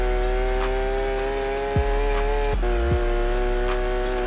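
Porsche 911 GT3 RS engine heard from inside the cabin in Forza Horizon 4, a loud sustained high-revving whine holding steady, with quick gear shifts marked by brief drops and jumps in pitch.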